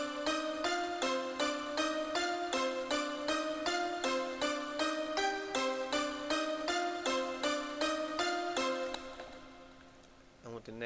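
A trap beat melody made in FL Studio, a steady repeating pattern of bright plucked synth notes in an even rhythm that loops for several bars before fading near the end.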